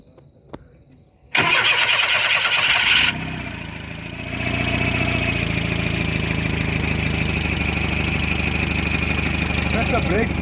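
A Volkswagen Golf Mk1 car engine cranks and catches with a sudden loud burst, then settles into a steady, close idle that runs for the rest of the moment.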